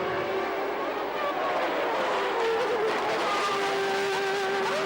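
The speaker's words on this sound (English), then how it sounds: "As Berger moved alongside Senna going into the first corner, they discovered 2 into 1 won't go." Formula 1 cars, including a McLaren, a Ferrari and a Williams, roar together at the start of the 1989 Brazilian Grand Prix, a dense, loud wall of high-revving engines sustained throughout as the pack heads into the first corner.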